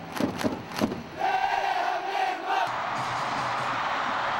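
A stadium crowd of Korean Red Devils supporters in 2006 shouts "goal" together in a massive, sustained roar, with a few sharp rhythmic chant bursts leading into a continuous wall of crowd noise.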